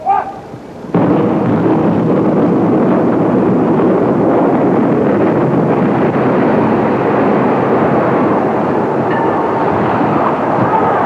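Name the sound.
implosion of Sander Hall building, 1991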